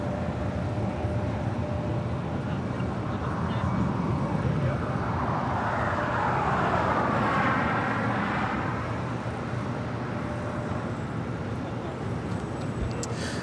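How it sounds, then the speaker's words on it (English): Delta Air Lines Airbus A321neo arriving at Los Angeles International Airport on a flight from Atlanta, a steady loud jet engine roar that swells around the middle of the pass and then holds, with voices talking over it. "This flight coming in from Atlanta, Georgia, Delta Airlines flight 317 in this A321neo"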